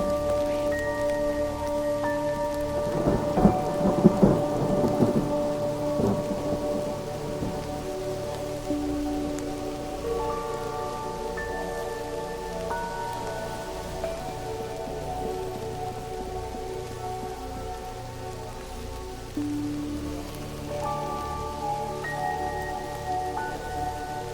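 Rain falling during a thunderstorm in the game Mind Over Magic, a steady patter under game music, with a brief noisy burst near the start like a rumble of thunder.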